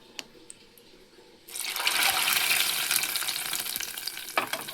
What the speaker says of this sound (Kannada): ಈಗ ಒಗ್ಗರಣೆ ಕೊಟ್ಟಿದೆ